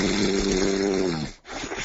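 A person loudly imitates snoring straight into a microphone, one long, rough, rattling, distorted snore followed by a brief gasp-like break and another raspy inhale, close and overpowering.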